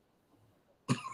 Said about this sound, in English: Choking on spit.